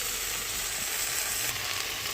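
Onions fry in a pan with ginger garlic paste for a fish curry, giving a steady, bright sizzle up close that holds without pause.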